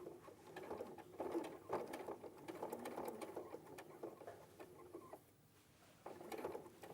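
A sewing machine stitches close to the edge of fabric with a soft, steady mechanical whirr that pauses briefly and starts again, faint and close.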